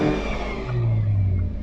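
Brand new 202 kW Hyundai i30N hot hatch, turbocharged, revving hard under acceleration; a loud, steady engine drone with a rising low growl, heard close with no talk over it.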